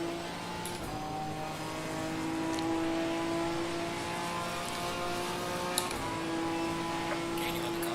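A BMW race car engine in a sim racing game, a sustained tonal engine drone rising slightly in pitch and loudness as it closes in, steady throughout with a faint whine.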